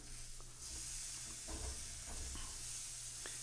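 Venison backstrap cooking on an outdoor grill gives a quiet, steady sizzle and hiss, with a few soft pops and a low background hum.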